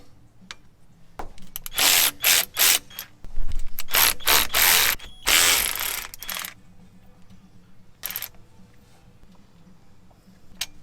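A ratchet works loose the bolts on the power steering pump of a 1992 4.9L engine, heard as bursts of quick metallic clicking with sharp clanks between them, close and loud, then fading to quieter handling noises.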